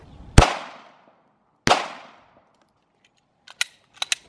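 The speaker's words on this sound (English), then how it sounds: "so we're gonna shoot two full metal jackets." Two loud, close 9mm full metal jacket gunshots fired into a stack of Kydex sheets, spaced about a second apart, each with a ringing decay, followed by a few faint small clicks and taps.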